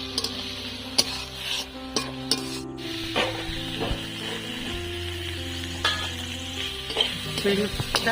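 Drumstick (moringa) leaves frying in a pan, a constant close sizzle broken by sharp metallic knocks and scrapes of a spatula stirring against the metal.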